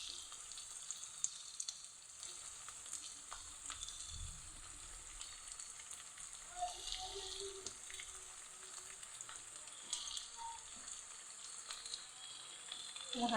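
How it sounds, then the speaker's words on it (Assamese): Potatoes frying in a pan, a faint steady hiss of oil with occasional soft crackles and a brief low knock, quiet and continuous with no talk. "দেখিছে আলুখিনি প্ৰায় মোৰ ভাজা হৈ গৈছে"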